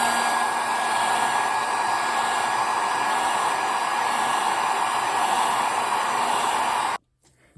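A hair dryer blows a steady, loud, close whir to heat the battery adhesive inside an iPhone 5c, running continuously for about seven seconds before cutting off abruptly.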